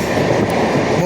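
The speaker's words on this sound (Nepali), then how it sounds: "यो चाहिँ हो तपाईँको मुम्बईको लोकल ट्रेन" A Mumbai local train rolls by up close, a steady loud rumble of wheels and carriages filling the short moment with no break.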